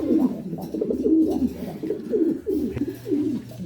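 Racing pigeons coo in a loft, with repeated low throaty rolling calls in close, overlapping phrases.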